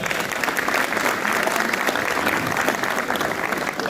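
Dense, steady applause from a crowd at a cricket league opening ceremony, continuous clapping at moderate distance for a few seconds.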